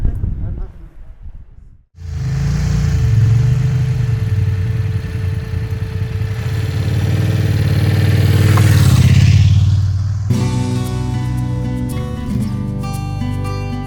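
A motorcycle engine drones steadily while riding on a road toward Ronda, Spain, rising in pitch as it accelerates, then music takes over near the end.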